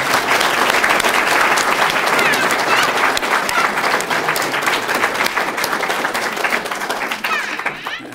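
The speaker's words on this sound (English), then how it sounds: "Let's give a round of applause to Mark." A crowd at a spiritual talk by Ishwar Puri gives sustained, loud applause, with scattered light laughter, tapering off gradually toward the end.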